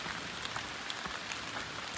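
Rain falls steadily during a hike in Shenandoah National Park, a soft continuous patter of drops with a few slightly sharper hits, fairly faint and without voices.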